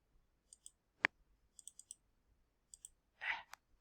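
Sharp, isolated mouse clicks during a PowerPoint screen-sharing session, one loud click standing out among several fainter taps and a brief rustle, with no talking.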